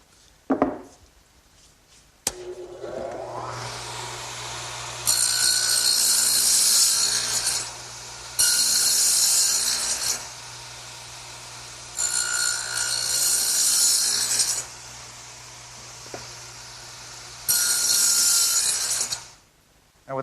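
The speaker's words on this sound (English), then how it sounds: "while I have the dado head set up in the radial arm, I want to make this end piece for my tool storage area" A radial arm saw fitted with a dado head spins up and makes four loud, gritty passes through wood cutting a rabbet joint, each lasting a couple of seconds over a steady motor hum between cuts.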